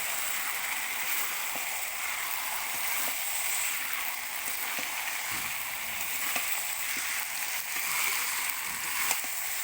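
Goat meat hitting hot spiced oil in a home kitchen, cooked for a Jamai Shashthi meal, gives a steady, close, broadband sizzle and spatter that runs evenly throughout with small crackles.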